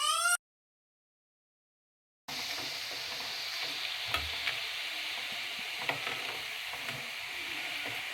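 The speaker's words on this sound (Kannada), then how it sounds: "ಚಕ್ಲಿ ಈ ಥರ ಗೋಲ್ಡನ್ ಕಲರಿಗೆ ಟರ್ನ್ ಆಗಬೇಕು ಅಲ್ಲಿವರೆಗೂ ಚೆನ್ನಾಗಿ ಫ್ರೈ ಮಾಡಿಕೊಡಿ ಆಯಿಲಲ್ಲಿ" Chakli frying in hot oil until golden, a steady close sizzle and bubbling that carries on without a break after a short silent gap, with no voices.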